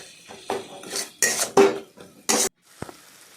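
Eggplant and fish head mash stirred in a pan: a series of distinct metal scrapes and clinks of a spatula against the pan in irregular strokes, close and clear, with a faint sizzle underneath.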